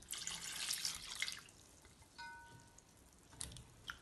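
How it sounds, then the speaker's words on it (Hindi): About a litre of water poured into a chicken and potato curry in a pan, a loud splashing pour in the first second and a half, then quieter bubbling and trickling, with a few soft clinks. "1 लीटर मैंने पानी इसमें ऐड किया"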